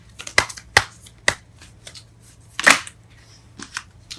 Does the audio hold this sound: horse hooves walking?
no